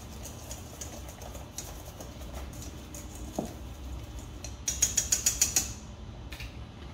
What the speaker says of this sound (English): We're gonna whisk this all together.